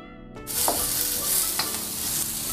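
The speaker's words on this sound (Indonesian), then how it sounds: "tumis bawang putih beserta jahe. Tumis sampai kurang lebih bau harum, lalu masukkan bawang bombay." Garlic and ginger stir-frying in hot oil for a beef and potato dish, a steady loud sizzle that starts abruptly and carries on with occasional spatula scrapes and stirring clatter.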